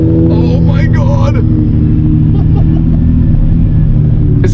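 Lamborghini Murcielago engine rumbling steadily from inside the cabin during a ride along, a constant loud low drone with excited voices talking over it early on.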